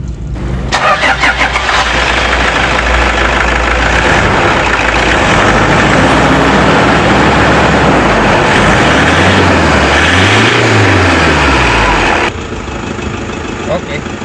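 Toyota Fortuner SUV engine cranking to life and then idling under an open hood, a loud steady rumble close by with a couple of brief revs near the end.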